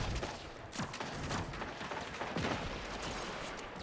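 Hand cannon gunfire in a Crucible match of the video game, with several sharp shots ringing out over a dense, noisy background of continuous combat.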